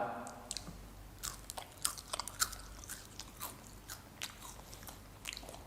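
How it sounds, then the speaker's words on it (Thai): Crisp, microwaved fish strip snack from Bang Hasan, slightly burnt in places, is bitten and chewed close to the mic. Irregular crunches and crackles run throughout, sometimes sharper, with no talking. "มันก็เป็นปลาเส้นกรอบนะครับ"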